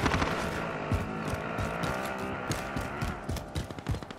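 A car drives by in Call of Duty: Modern Warfare, its engine roaring loud and steady with tire noise and scattered sharp knocks, heard alone without voices.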